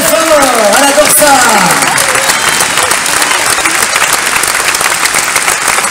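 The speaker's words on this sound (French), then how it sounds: "Allez-y, applaudissez-la très fort, elle adore ça." Dense, sustained audience applause fills a Holiday on Ice figure skating show, loud and even throughout, with a voice briefly rising over the clapping at the start.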